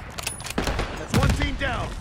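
A quick burst of gunfire and a mortar blast from a Call of Duty Black Ops 6 firefight near an overpass, loud and close, with sharp cracks and a rumbling hit; a voice shouts over it.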